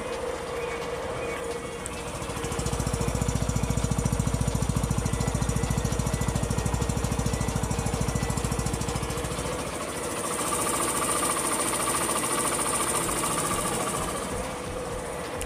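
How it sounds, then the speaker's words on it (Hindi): A Hero Passion Pro BS6 motorcycle idling close by, its engine and exhaust giving a steady, loud mechanical chug that swells and holds for several seconds before easing to a lighter idle with some background noise. "तो यहाँ से मैंने आपको इंजन का साउंड और एग्जॉस्ट साउंड दोनों ही सुना दिए हैं"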